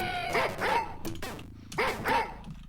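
Dogs bark in the Wolfenstein 3D game, two bursts of a couple of sharp, close, loud woofs each, separated by brief gunfire-like clatter, with no talking.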